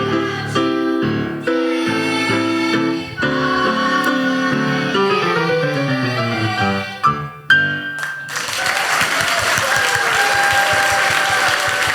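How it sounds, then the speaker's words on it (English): A church congregation breaks into warm, steady applause for the singers as their song with sustained musical chords ends. The clapping fills the room for the last few seconds. "the congregation gives them a very big round of applause when they're done"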